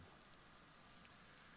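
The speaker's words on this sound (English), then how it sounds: "what kind of fucking rain is that?" Rain falling in the video game Death Stranding, a soft steady patter of drops throughout, faint and alone with no talk.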